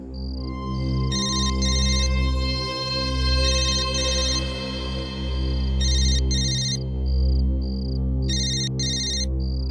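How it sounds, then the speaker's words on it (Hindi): A mobile phone ringtone rings loudly and repeatedly, bursts of bright chirping tones over a steady, prominent electronic melody, continuing throughout without talk. "फोन बज रहा है तेरा।"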